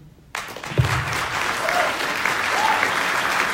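Applause from the audience at a district attorney candidates' forum starts abruptly and holds as a dense, steady clapping that carries on without a break.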